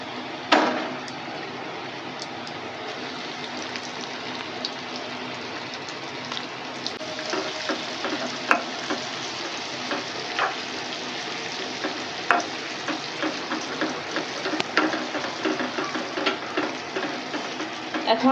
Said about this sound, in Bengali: ময়দায় কোট করে ভেজে নিব তো তেলটা গরম হয়ে গিয়েছে এখন